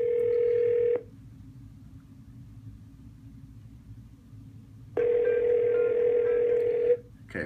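A Yealink T46G IP phone plays its outgoing ringback tone after a call is placed: two long steady tone bursts about four seconds apart with near silence between, clean and close.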